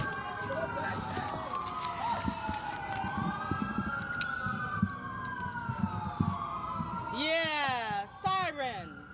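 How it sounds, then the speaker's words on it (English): Wailing emergency sirens sweep up and down continuously at a protest rally against immigration raids, with a second, faster-warbling siren joining near the end over crowd noise and scattered talk. "Yeah, sirens."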